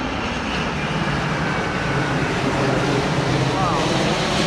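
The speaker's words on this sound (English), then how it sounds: "Gee, another big plane." A Japan Airlines jet passes overhead on a street near Tatung University in Taipei, a loud, steady, broad roar that holds unbroken for the whole stretch without fading.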